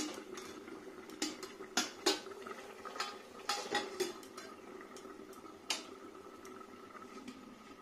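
A metal pot lid is lifted and set about over simmering fish curry, giving sharp clinks and clatters scattered among faint bubbling, fairly quiet and close.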